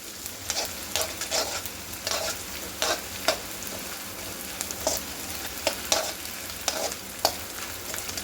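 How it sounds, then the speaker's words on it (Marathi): Small pieces of edible gum (dink) fry in hot oil, a continuous close sizzle broken by repeated brief bright scrapes and stirring strokes, with no voices. "आपण जो शंभर ग्रॅम डिंक घेतला तो थोडा थोडा करत आपल्याला तळून घ्यायचा आहे"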